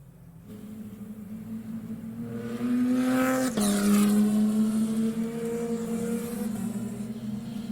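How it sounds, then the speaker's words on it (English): Lotus Cup race cars drive through a chicane at the Zolder circuit, engines droning and then rising sharply as one passes close and fast with a Doppler drop, followed by steady engine roar. "They make their way through that first chicane, just trying to get some heat into the tyres"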